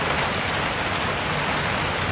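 Steady rain falls outside a mountain hut, a dense continuous hiss of drops that stays loud and even throughout with no voices.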